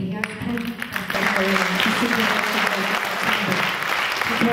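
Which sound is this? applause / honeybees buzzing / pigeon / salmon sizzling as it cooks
applause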